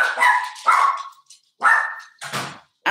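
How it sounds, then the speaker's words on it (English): A dog barks in about five sharp, loud bursts close by, with short silent gaps between them, while its owner is live at home. "If my dog don't stop barking"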